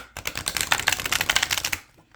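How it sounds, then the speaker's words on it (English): A brand-new, still-stiff tarot deck being shuffled, giving a rapid run of crisp card flutters and clicks for under two seconds, close and fairly loud, with no talking. "So let's do a little shuffle and see how they shuffle."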